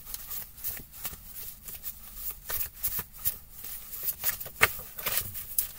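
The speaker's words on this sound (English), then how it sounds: "Cutting down the deck for me, I guess." A deck of tarot cards being shuffled and cut by hand, with repeated quick riffling flutters and soft slaps in an irregular rhythm, close and fairly quiet.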